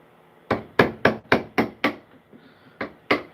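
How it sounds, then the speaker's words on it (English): Mallet made from a piece of old ironwood striking wood at a jungle workbench, about eight sharp, loud thwacks in a steady rhythm with a brief pause before the last two. "So try to hit this with a hammer."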